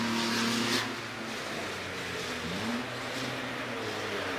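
Race cars pass during the Silverstone 24-hour race on a dim morning, a loud engine roar with a rising and falling pitch sweeping by, then a steady background drone of motors, with no speech.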